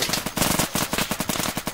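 Rapid automatic gunfire from the tactical shooter Insurgency crackles in a fast, steady burst of sharp shots, loud and close with no talk.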